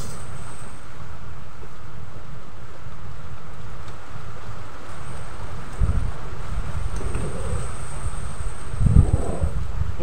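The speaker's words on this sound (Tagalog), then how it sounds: "Kaibigan, ang lakas po ng hangin." Steady wind rushes across the microphone, with a few stronger buffeting gusts toward the end and no voices.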